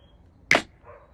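One sharp, bright snare hit with a quick decay, followed by a fainter, softer layer trailing just after. No other sounds.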